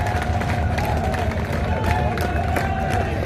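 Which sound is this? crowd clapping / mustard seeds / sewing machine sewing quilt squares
crowd clapping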